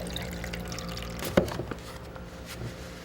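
Cool water being poured for steel-frame construction workers at a building site, a soft trickle with a brief splash in the middle, faint and close.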